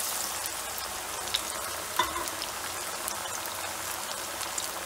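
Vegetable vadai, an Indian snack, fry in hot oil with a steady, dense sizzle and crackle. A couple of small pops stand out over the constant hiss, and no one talks.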